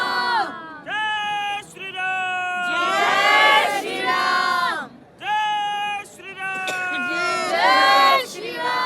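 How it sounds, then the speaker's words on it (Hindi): A large crowd at the Ganga Aarti during Mahakumbh 2025 chants and shouts in loud, surging bursts of many voices, pausing briefly between waves. "यहाँ की भीड़ आप देख ही सकते हो"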